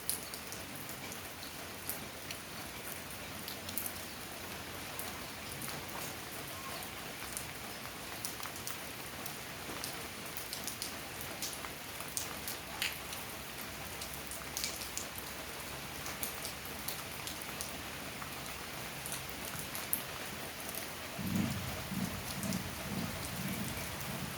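Steady early-morning rain falls under dark, overcast skies, a soft continuous patter of drops that holds evenly for the whole stretch, fairly quiet with no voices.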